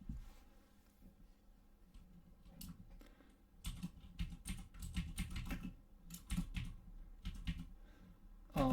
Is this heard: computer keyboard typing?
yes